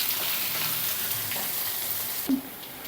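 Onions, green chillies and curry leaves fry in a pan for an egg curry, giving a steady, close hissing sizzle, with a brief stir or clink of the utensil near the end.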